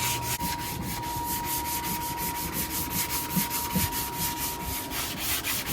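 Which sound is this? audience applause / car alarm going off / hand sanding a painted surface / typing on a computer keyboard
hand sanding a painted surface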